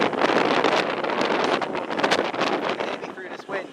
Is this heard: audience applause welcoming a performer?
no